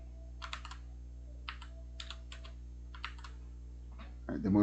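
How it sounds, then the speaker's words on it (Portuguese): Keys pressed on a computer keyboard in a terminal: several small clusters of crisp clicks spaced over a few seconds, close and fairly quiet, ending in a brief louder burst of noise. "Eu venho aqui, clico aqui no terminal e dou um R minúsculo, aperto a tecla R."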